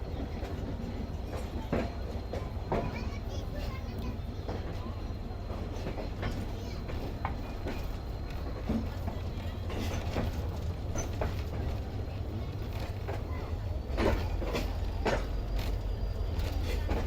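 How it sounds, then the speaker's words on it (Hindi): Mehran Express train of about six coaches rolling along the ML-1 line from Mirpurkhas toward Hyderabad, a steady broadband rumble with intermittent clicks and clacks of wheels over rail joints throughout. "ये है जी पूरी मेहरान एक्सप्रेस तकरीबन 6 डब्बों के साथ"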